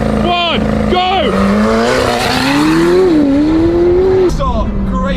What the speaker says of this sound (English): Standing start with me in the McLaren going first.